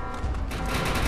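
Rapid gunfire aimed at the player in Defiance 2050, a dense continuous burst of automatic shots that grows louder in the second half, with no talking.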